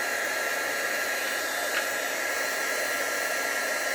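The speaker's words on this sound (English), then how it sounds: "I'm going to plug my heating gun because I don't like leaving that plugged in." A heat gun blows with a steady, loud, even rush of air at a crafting table, holding constant from start to finish with no talk.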